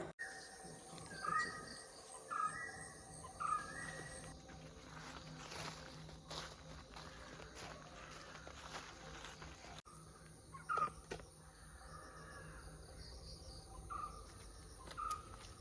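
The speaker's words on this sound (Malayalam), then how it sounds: "ഒരുപാട് കിളികൾ ഇങ്ങനെ സൗണ്ട് ഉണ്ടാകുന്നുണ്ട് കേട്ടോ" Faint bird calls chirp in short bursts, a few clustered groups of notes, over quiet outdoor ambience with insects buzzing and occasional rustling steps.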